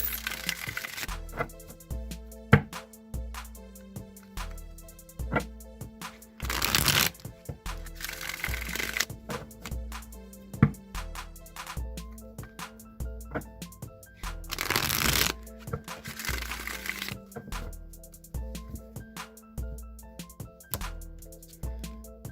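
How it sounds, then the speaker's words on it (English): A Rider-Waite tarot deck is shuffled repeatedly up close, with rhythmic riffling bursts and soft taps over quiet background music. "let's go ahead and just shuffle the Rider-Waite deck now"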